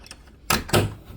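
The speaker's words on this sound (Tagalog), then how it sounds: "Screen door." A screen door opens with two sharp rattling clacks close by, the second longer and scraping, in an otherwise quiet home.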